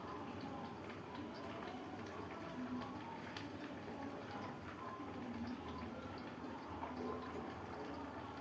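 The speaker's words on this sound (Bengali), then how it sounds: "তেল যা আছে হয়ে যাবে, কারণ তাও একটু ঢেলে নিই" Cooking oil pours into a pan with a faint, steady liquid trickle and low simmering hiss, quiet and continuous in the background.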